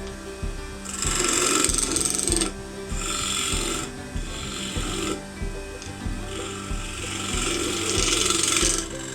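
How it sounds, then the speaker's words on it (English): Woodturning finishing cuts taking very thin shavings on a wooden ship deck platter, a steady close scraping and rasping hiss from the tool against spinning wood in several continuous passes, with brief pauses between them. "just doing some sort of finishing cuts to really thin shavings"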